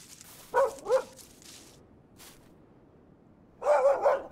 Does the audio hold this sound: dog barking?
yes